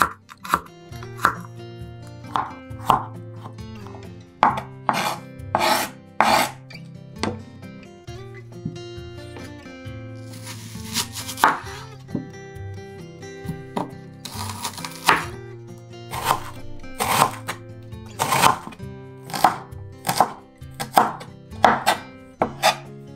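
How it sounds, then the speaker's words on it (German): A garlic clove and an onion chopped into small pieces with a knife for chili, giving a steady run of sharp, close knife strikes on a board in quick rhythmic bursts. "Für das Chili schneide ich zuerst eine Knoblauchzehe in kleine Stücke und eine Zwiebel in kleine Würfel."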